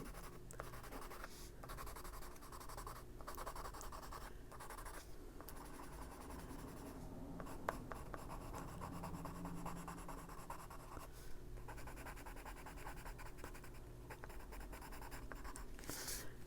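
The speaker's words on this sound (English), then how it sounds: "Putting a little more pressure on this to knock down the tooth of that paper a little bit." A colored pencil presses hard on textured paper in a steady, continuous scratchy rubbing that runs close and unbroken, with brief pauses between strokes and no talk.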